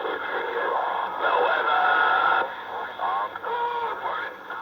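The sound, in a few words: CB radio skip transmission chatter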